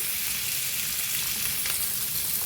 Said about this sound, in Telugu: కరివేపాకు, పచ్చిమిర్చి, ఉల్లిపాయలు కూడా వేసేసుకున్నామండి. ఇవి కొంచెం బ్రౌనిష్ కలర్ రావాలండి.